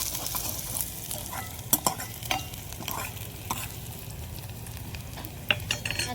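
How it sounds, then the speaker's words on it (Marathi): Sliced onion sautéing and being stirred in a pan for a hadga flower and egg bhaji, a steady soft sizzle with occasional sharp clicks and scrapes of the spoon against the pan. "आणखीन एक वेळ फिरून घेतो, नाहीतर मग एक साईड जाऊन जाईल कांदा."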